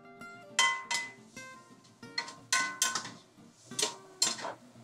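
Japchae meat and vegetables stir-fried in a pan, a series of sharp metallic clinks and scrapes of utensils against the pan in an irregular rhythm, close and clear without talk.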